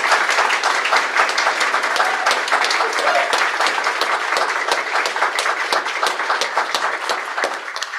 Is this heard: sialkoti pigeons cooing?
no